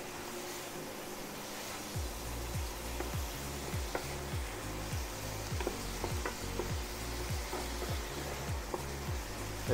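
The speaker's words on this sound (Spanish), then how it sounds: "Esperamos que cocine bien la carne, que quede doradita." Meat sizzles and fries steadily in a pan for chili dogs, seasoned with paprika, oregano and chipotle sauce, with a continuous crackling hiss and rhythmic stirring or scraping strokes, close up and without talk.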